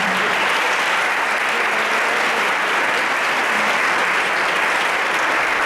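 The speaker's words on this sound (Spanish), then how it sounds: "Demos un gran aplauso a Noelia." Steady applause from a conference audience for a speaker at a Granada OCD association talk, dense and continuous throughout without a break.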